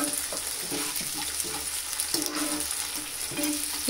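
Schezwan sauce of chilli, vinegar and sugar sizzles steadily in a pan while a spoon stirs it, scraping in soft, irregular strokes over the constant frying hiss.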